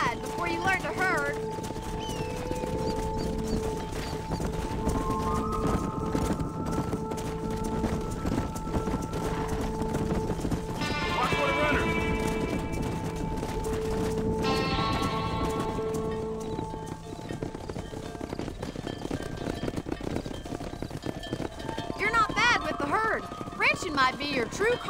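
Horses trot with steady clip-clop hoofbeats and whinny occasionally while herding cattle in the video game Red Dead Redemption on PS4. Voices talk and music plays alongside the close hooves.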